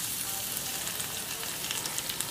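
Cumin seeds and crushed garlic tempering in hot oil, a faint, steady crackling sizzle with small pops scattered throughout, heard alone without any talking.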